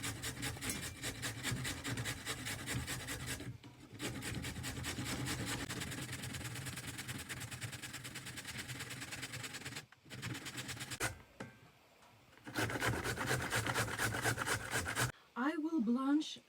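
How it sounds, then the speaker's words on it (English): A carrot is grated for borscht with fast, repetitive rasping strokes in long runs broken by short pauses, close and fairly loud, with brief talking near the end. "Meanwhile, I grate the carrot."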